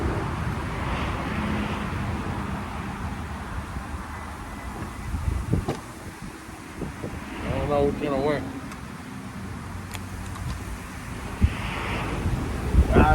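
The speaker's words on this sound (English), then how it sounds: "Oh, it's windy." Wind buffets a microphone with low rumbling gusts while a person talks intermittently.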